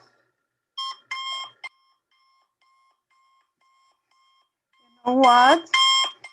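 A beeping alarm clock rings in short, high electronic bursts, two quick beeps early and then fading pulses, alone before a voice speaks briefly at the end.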